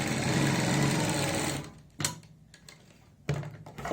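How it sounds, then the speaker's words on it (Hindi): A sewing machine runs steadily for about a second and a half while stitching the edge of a kurti collar, then stops, followed by a few short bursts and clicks. "अब हमें यहाँ पे सिलाई लगानी है इस साइड में किनारी की।"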